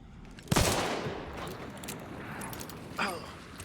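Gunfire in the video game Hunt: Showdown: one sharp, loud shot with a rolling echo tail, then a second, fainter shot a few seconds later, while a voice speaks in the background.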